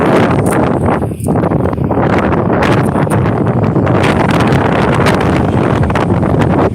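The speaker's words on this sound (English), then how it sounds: "It's windy" Strong wind buffets the microphone in a constant loud roar, with gusty rustling throughout and no voices.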